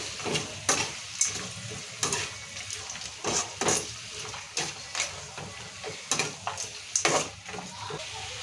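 A soft sizzle of tempering for semolina upma in a pan runs under frequent sharp clinks and scrapes of a spoon stirring, fairly quiet and close.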